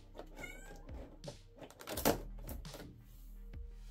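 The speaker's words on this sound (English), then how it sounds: "Cat's meowing." A cat meows a few times indoors, short tonal calls rising over a quiet room, mixed with soft thunks and handling noises of cardboard packaging nearby.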